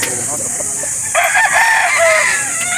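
A rooster crows once, loud and near, at a chicken market in Calauan, Laguna, its drawn-out call rising over a noisy background of other birds and murmur.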